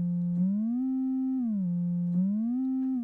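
A VCV Rack synth lead patch set with excessive slide plays a clean, sine-like tone that glides slowly up and down between two pitches, with soft clicks at each note change.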